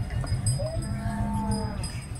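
Cattle at a bullock market in Neknur low and call among a busy crowd of animals, with a few brief tonal bellows over a steady rumbling background.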